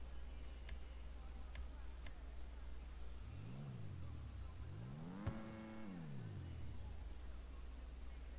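A Karin 190z sports car engine in GTA V revs twice, the second time longer, rising and falling in pitch over a steady idle, with a few sharp ticks early on and no speech.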